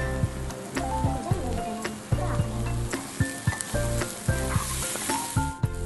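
Egg kothu chapathi frying until crispy in a pan, a steady loud sizzle with frequent scraping and stirring knocks throughout, close up.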